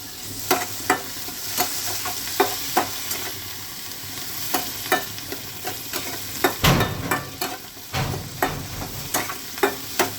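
Shrimp heads frying in hot oil with salt and turmeric, a steady sizzle broken by repeated sharp scrapes and knocks of a spatula stirring the pan, with one louder clatter near the middle.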